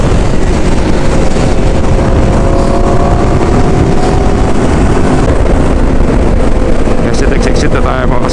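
Aprilia RSV4 1100 Factory V4 motorcycle engine running steadily and loud throughout, a continuous drone with heavy wind buffeting over it, while voices talk faintly underneath.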